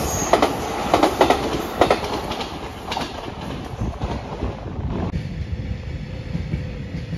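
An Iida Line train passes through Toyohashi Station, with steady rumbling wheels, repeated clickety-clack beats over rail joints and faint wheel squeal. The noise stays loud and close throughout, and no voices are heard.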